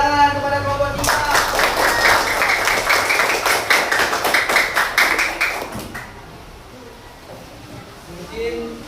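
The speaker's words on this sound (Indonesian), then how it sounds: "Tepuk tangan kepada kelompok 3." Classroom group applauds the third student group, a burst of quick clapping lasting about five seconds before fading into quieter room noise, with a voice speaking briefly before and after.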